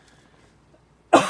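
A single sharp cough bursts out abruptly near the end after a quiet stretch, loud and close, with no talk over it.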